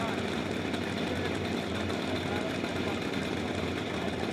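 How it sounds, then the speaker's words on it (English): An air-cooled two-stroke 125cc kart engine with chain drive and a single gear, running premix fuel, drones steadily and continuously at a karting championship, with a dense buzzing hum and no clear gaps, over crowd and track noise. "it's a free air, cooled two-stroke, 125cc engine"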